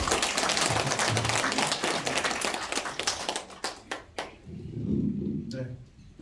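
A welcoming round of audience applause for an assembly member at a senior citizens' association general meeting in Jongno, with loud, dense clapping that thins into a few scattered claps and then gives way to a voice.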